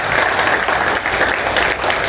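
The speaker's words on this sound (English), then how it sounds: "How about a round of applause for all of our District 3 County Commission candidates?" An audience at a political debate in Chipley, Florida applauds the District 3 county commission candidates, with loud, continuous clapping filling the space from start to finish without talk.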